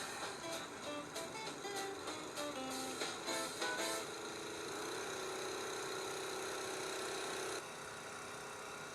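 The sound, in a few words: little engine of tow truck air compressor starting up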